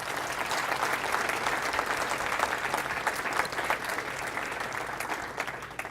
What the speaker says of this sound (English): So let's give Hayden one more round of applause.